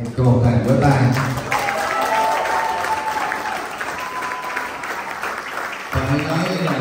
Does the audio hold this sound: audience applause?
yes